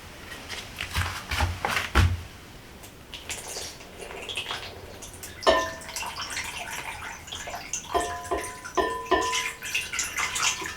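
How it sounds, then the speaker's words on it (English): Water running and splashing into a bowl, set out to bottom-water a Cebu plant, with intermittent pouring bursts, small clinks and drips, close and moderately loud with no talking. "Fill up that bowl with water."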